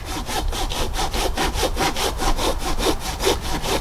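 A Silky hand saw cuts through a freshly felled hardwood ash log at an easy pace: steady, rhythmic back-and-forth rasping strokes, close and loud, with no talking.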